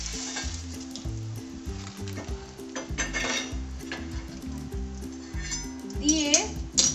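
Hilsa fish frying on a banana leaf gives a steady sizzle with stirring and pan clinks underneath, and a voice talks over it throughout.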